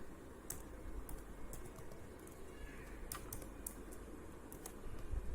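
Faint, scattered keystrokes on a computer keyboard as students' numbers are entered into a table, the light clicks sitting over a steady low background hum.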